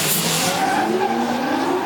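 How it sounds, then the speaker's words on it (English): Drift car tires skidding and squealing through the last outer zone at a D1NZ drift battle in Mt Smart Stadium, a loud sustained screech with rising tonal sweeps and no talk over it. "Andrew Redwood feeding the throttle there as Liam Burke just gets the rear end right out to that last outer zone."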